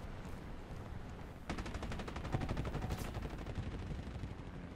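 Rapid, continuous bursts of anti-aircraft gunfire in a video game pound steadily for several seconds, growing denser and louder partway through, with no talking.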